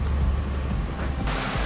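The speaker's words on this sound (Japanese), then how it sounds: "谷川ですね。" A mountain valley stream rushes past ground loosened by landslides, a steady, loud, broadband roar of flowing water with no voices.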